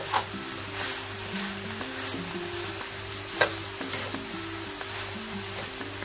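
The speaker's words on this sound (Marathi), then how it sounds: "सर्व गाजर टाकून घेऊया। तूप सर्व इकडे लागलं पाहिजे आपलं। परतून घेऊया।" Grated carrots sautéing in ghee for carrot halwa, a steady sizzle with frequent spoon scrapes and taps against the pan, close by, with no talk.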